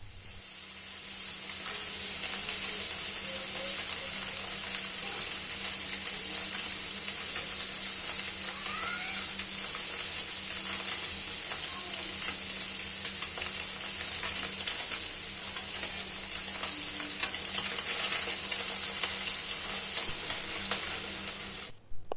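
Small mola fish frying in hot oil as they are turned over, giving a loud, dense, unbroken sizzle throughout with faint occasional scrapes beneath it.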